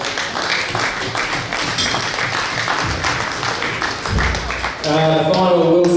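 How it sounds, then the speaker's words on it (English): An audience at a 2016 billiards tournament, the Mitchell Billiards Western National, applauds a third-place player, a steady wash of clapping that lasts several seconds before music takes over near the end. "Round of applause for Marc Robertson, please."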